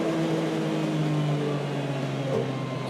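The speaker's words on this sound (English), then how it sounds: "listen to that engine, will you?" A loud, steady BTCC-spec Mondeo racing car engine drones close by with a constant pitch, running without a break and with no talking.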